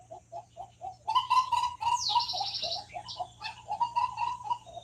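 Several birds call close by next to the rainforest in Costa Rica: a run of soft repeated coos beneath bright chirps and trilling whistles that overlap without pause.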